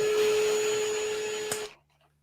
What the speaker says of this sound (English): No, he's pumping up the hot tub.